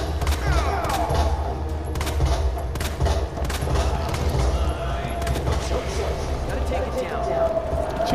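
Rapid gunfire from a Resident Evil 2 fight against an eyeball weak spot, dense repeated shots over a loud continuous game soundscape, with someone talking over it.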